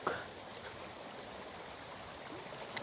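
Stream flowing near a small bridge in rural Cebu, a soft continuous rush of water with a brief louder splash at the start, faint and steady throughout.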